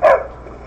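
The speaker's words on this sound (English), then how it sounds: "Is that a dog now?" A single short dog bark from Skyrim, loud and close, cutting off quickly into a quiet background.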